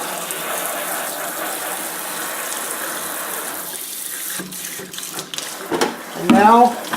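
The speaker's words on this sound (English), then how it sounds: "I'm just using cold water to get all of it out" Cold tap water pours and splashes while soap is rinsed from gloves, then thins into a few wet handling sounds and clunks near the end, with a voice briefly audible.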